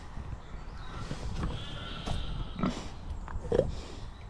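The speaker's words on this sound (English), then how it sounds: "We've got some pigs over here, so we'll quickly have to take a walk over here and see them." Pigs grunt and snort close by on a farm, with a few short, rough grunts scattered through a few seconds over background rustling.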